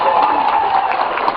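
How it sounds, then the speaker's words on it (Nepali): Audience at a Nepali comedy show applauding, a dense continuous patter of many hands clapping, close and loud for a brief burst. "पुर्खेमा आएका लागि ताली बजाइदिनु"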